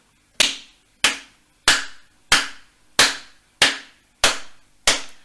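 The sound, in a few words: hand clapping crotchet beats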